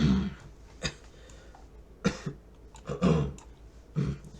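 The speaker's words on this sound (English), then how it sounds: "Had a cough." A person coughs several times in short bursts, spaced irregularly, with some throat clearing at moderate volume and no talking.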